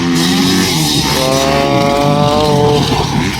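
A 450 and a 125 motorcycle race side by side in a ladies' open motocross round, their engines whining loud and close with rising, revving pitch. A brief voiced exclamation cuts in over them.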